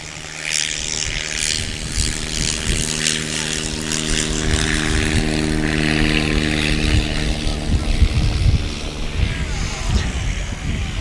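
A 57-year-old Piper STOL aircraft's propeller engine throttles up for takeoff on an airfield, a loud steady droning roar with buzzing propeller harmonics, close by and sustained, with a voice talking over it.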